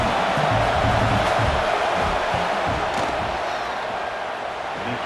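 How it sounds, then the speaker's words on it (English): A steady stadium crowd roar from College Football 26, a Kent State versus Florida State game, rises loudly as the field goal unit lines up for a kick and holds dense and constant throughout, with no clear talk over it. "This crowd trying to do its part to get inside the kicker's head."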